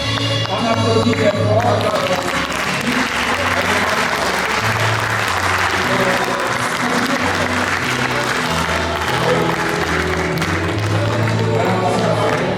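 Loud, sustained audience applause fills a hall at a 2013 Pentecost show, a dense steady clatter of many hands that never lets up, with a low melody and murmuring voices underneath.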